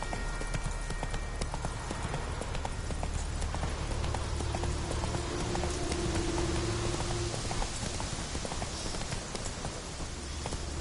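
Horse hooves galloping in The Witcher 3 on PlayStation 4: a dense, fast clip-clop that carries on without a break, with a hiss like rain or wind under it.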